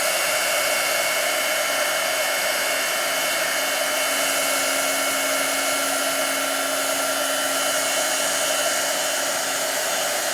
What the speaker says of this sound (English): So I'm gonna heat it, and it's gonna melt the powder